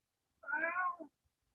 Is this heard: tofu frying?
no